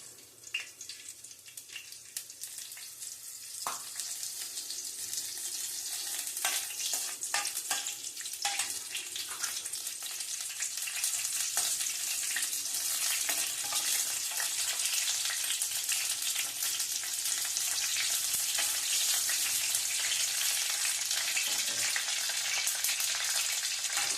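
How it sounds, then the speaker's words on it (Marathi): Cumin seeds frying in hot oil, a sizzle that builds within the first few seconds into a dense, steady crackle with scattered sharper pops, close and unbroken, with no one speaking. "तेल तापले मागीर एक 2 चमचे जीरे घालचे"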